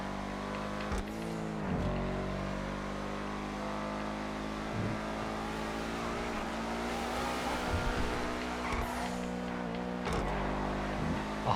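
A race car in GTA FiveM roars under hard acceleration, its engine note climbing through the revs with brief dips at gear shifts, loud and sustained with no talk.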